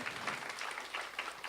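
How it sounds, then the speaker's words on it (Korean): Steady applause from a church congregation, many hands clapping continuously and fairly loud, with no voices. "박수 한번 칠까요?"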